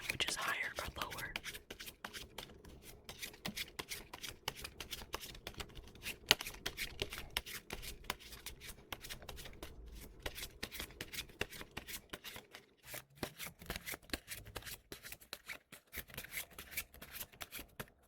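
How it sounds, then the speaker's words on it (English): A deck of playing cards is shuffled close up in a quiet ASMR setting, with crisp, rapid riffling and rubbing crackles that repeat throughout, and soft whispering underneath. "I'm going to shuffle these cards"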